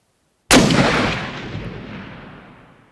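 A single heavy gunshot from an M2 Browning heavy machine gun booms out suddenly after silence, its loud blast rolling into a long, fading echo.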